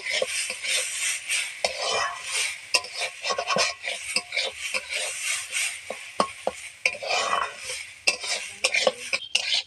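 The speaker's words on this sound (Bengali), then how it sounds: "আমরা ডালটাকে ভেজে নেব" Lentils (dal) sizzle in hot oil in a wok while a spatula stirs and scrapes against the metal in repeated irregular strokes, close and moderately quiet, with no talk.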